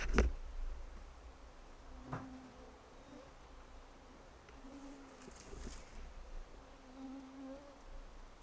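Faint, intermittent buzzing of large mosquitoes in Alaska drifts in and out, thin whining tones over a quiet background.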